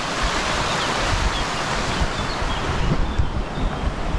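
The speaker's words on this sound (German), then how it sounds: "Wanderweg und ein wunderschöner Bach." A babbling brook flows beside a hiking trail in rural France, its steady rushing water filling the scene with broadband noise and occasional brighter splashes, close and continuous with no talking.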